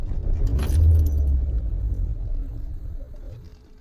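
A car with a fault that makes it start then die and refuse to idle: keys jangle as the engine turns over with a deep rumble near the mic, then fades down as it shuts off.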